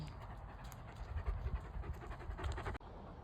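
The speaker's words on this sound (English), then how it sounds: "Doggy." A dog pants in rapid, steady breaths close by during a walk on the Camino Portuguese between São Caetano and Tomar, continuing for a few seconds before cutting off abruptly.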